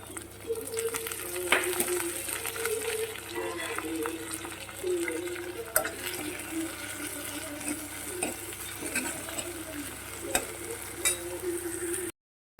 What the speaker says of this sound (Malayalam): ചേർത്ത കൊച്ചുള്ളി ചെറുതായിട്ട് ഒന്ന് വഴണ്ടിട്ടുണ്ട്. അതിനുശേഷം നമുക്ക് ടൊമാറ്റോ ചേർക്കാവേ.